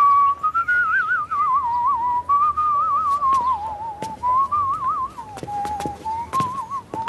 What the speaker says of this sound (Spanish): ¿Qué pretendes silbando esa canción?